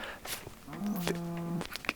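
A cow moos in the blocky sandbox game Minecraft, one drawn-out, tonal low moo lasting about a second amid faint game ambience, moderately close and heard alone.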